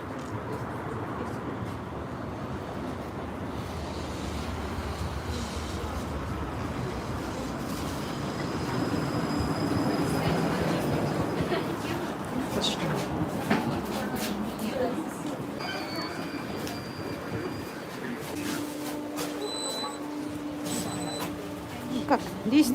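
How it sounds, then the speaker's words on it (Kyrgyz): A city tram arriving and running along street rails, a steady rumbling roll that swells in the middle with faint metallic squeals toward the end, heard amid street noise and occasional voices. "Едет наш трамвай."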